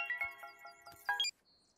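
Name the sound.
phone ringtone from a wife's call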